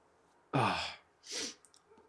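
A single loud, sharp sneeze bursts out, then a softer breathy exhale follows, with faint small noises afterward.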